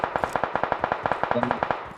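Rapid automatic gunfire from the BGMI mobile battle royale game, a fast steady string of sharp bursts about ten per second, with a brief electronic game tone midway.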